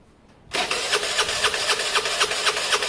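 A Vespa 125cc scooter engine, rebuilt with a new intake manifold, fires up after a brief silence and settles into a loud, rhythmic pulsing idle close by.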